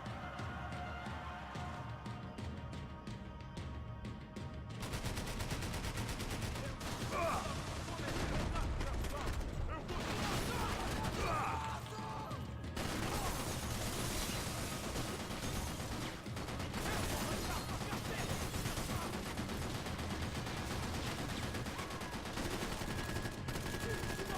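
Gunfire in the video game Max Payne 3, dense bursts of shots and explosive effects running continuously and loudly throughout, with a voice talking over parts of it.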